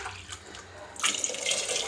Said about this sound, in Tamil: இந்த ஒரு டம்ளருக்கு தண்ணி ஊற்றிங்க.